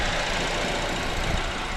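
A Honda Civic engine idles after an oil change, giving a steady low rumble with a broad even hiss, close and continuous with no talk.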